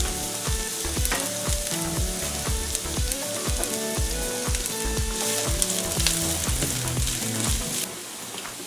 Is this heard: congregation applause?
no